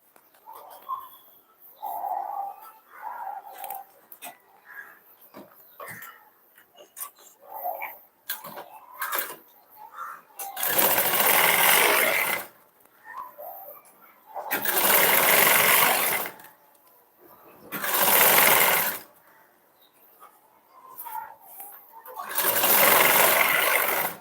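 Four loud bursts of sewing machine stitching run along a blouse seam, each a couple of seconds long, separated by quieter gaps where someone talks and fabric is handled.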